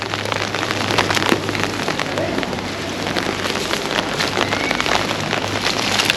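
Heavy rain pours steadily and loudly during a storm at the Langkawi SkyBridge, with dense drops pattering on nearby surfaces and no voices.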